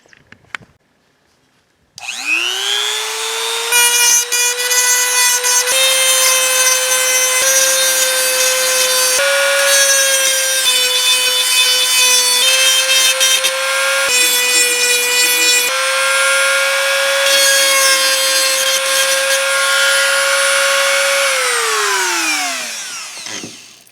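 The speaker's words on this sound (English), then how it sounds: "I'm just going to use a Dremel tool with a sanding bit or a grinder and take those off" A small Dremel rotary tool with a sanding bit whirs up to speed and grinds metal pins from a McCulloch Timber Bear chainsaw steadily for about twenty seconds with a high whine and shifting pitch, then spins down.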